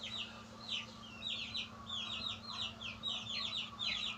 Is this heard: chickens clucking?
yes